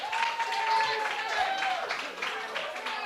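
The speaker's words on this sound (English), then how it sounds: "Listen to this sellout crowd." Sellout crowd at an RWA wrestling show during a thumbtack last-man-standing match, cheering and applauding steadily at a distance beneath a commentator talking throughout.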